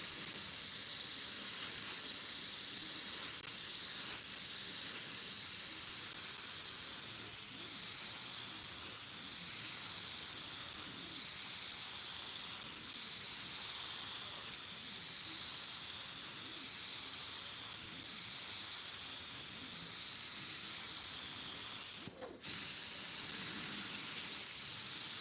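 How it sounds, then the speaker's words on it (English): Airbrush spraying paint, fed by an air compressor: a steady, continuous high hiss of air and paint mist lasting throughout, moderately quiet and unbroken apart from one sharp click near the end. "Sometimes this particular airbrush wants more PSI."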